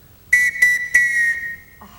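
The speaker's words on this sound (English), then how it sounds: "And when I want you, this is what you'll hear." A whistle blown by a father to summon his children in a stage production of The Sound of Music, with three sharp blasts followed by a sustained tone, loud and close with no talk.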